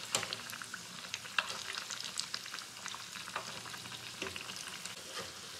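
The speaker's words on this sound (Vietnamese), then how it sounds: "khi chiên thì mọi người chiên cái bánh cho nó đầy cái nồi một chút xíu như thế này nha" Bánh bao chiên, Vietnamese steamed buns, frying in a pot packed fairly full of hot oil, giving a steady close bubbling sizzle with scattered crackles and pops and no talking.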